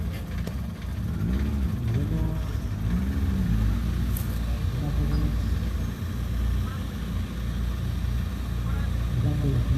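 BMW Compact 320 rally car driving a slalom course, its engine droning loudly and steadily with rising and falling revs throughout, close by, with a voice talking over it.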